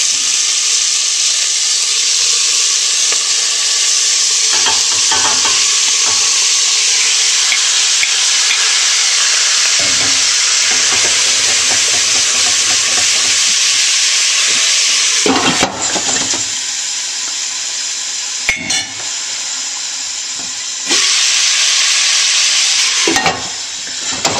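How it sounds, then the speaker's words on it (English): Lamb chunks brown in a hot pan for a lamb stew with bacon and turnips, a steady loud sizzle running throughout with occasional stirring scrapes and clacks of a utensil. "Now what we're going to do is brown this meat."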